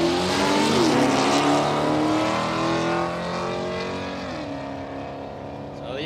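An old-school Pontiac drag racing at Palmyra Raceway in Australia, its engine roaring loud and close with a rising, straining pitch that dips and climbs again at a gear change partway through.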